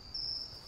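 Crickets chirp at night in the video game Meat, a steady high-pitched trill running continuously through a quiet outdoor scene.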